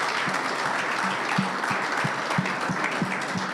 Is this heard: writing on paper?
no